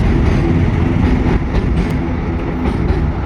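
A freight train rumbles past close by, a loud, steady roar of rolling wagons with faint rhythmic clatter and no voices.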